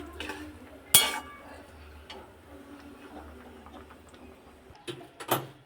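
A lid goes onto a pan of mixed cabbage curry with a sharp metallic clink, followed by quiet kitchen ticking and a few more light clinks near the end.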